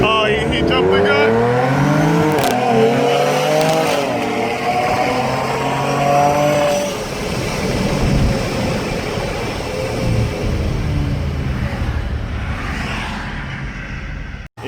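A RIPP supercharged Dodge Charger races a Lamborghini, loud engines rising in pitch through steady acceleration and staying close and strong for most of the run before easing off at the end.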